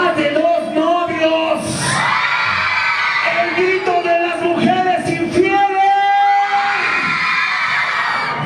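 A crowd of women shrieking and yelling together at a nightclub, loud and close, with high drawn-out cries rising over layered voices.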